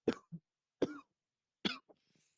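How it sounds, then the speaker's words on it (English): Coughing fit of three short, sharp coughs spaced under a second apart, each followed by a smaller throat rasp, close and fairly quiet against silence. "Just had a bit of a coughing fit there."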